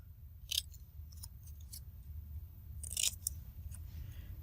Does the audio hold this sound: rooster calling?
no